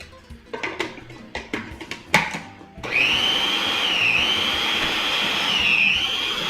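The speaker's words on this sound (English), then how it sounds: "we're gonna process this probably half at a time and just make a puree with it" A food processor purees cooked pumpkin, starting with a few short choppy pulses and knocks before settling into a loud, continuous whirring drone that wavers slightly in pitch.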